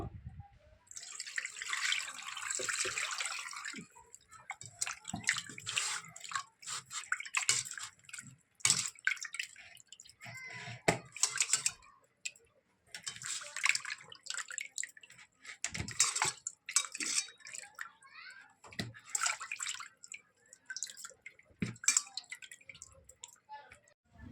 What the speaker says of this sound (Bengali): মাছটা পাতিলেবু লবণ মাখিয়ে রেখেছিলাম এখন ধুয়ে নেব